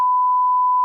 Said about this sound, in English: every second he had to add a beep